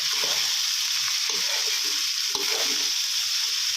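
Chicken fried rice is stir-fried in a large batch in a pan, with a steady loud sizzle and repeated scrapes and clinks of a spatula tossing the rice.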